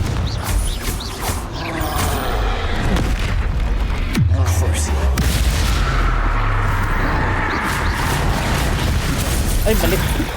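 A Confringo fire spell explodes in the Hogwarts Legacy video game, giving a sharp booming blast with a deep low rumble amid continuous game noise and talk.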